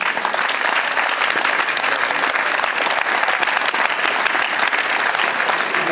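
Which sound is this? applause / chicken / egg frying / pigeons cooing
applause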